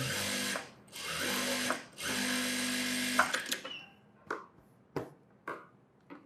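A sewing machine stitches a blouse in a tailoring workshop, running in two steady bursts of motorized whirring before stopping, followed by a few sharp clicks and knocks as the fabric is handled.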